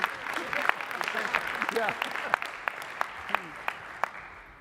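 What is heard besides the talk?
convention audience applauding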